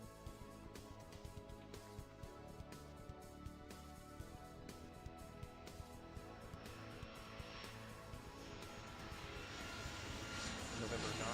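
Aircraft engines hum steadily as planes taxi in the airport game Airport Madness 3, a continuous low drone that swells louder toward the end, with a voice calling out instructions over it.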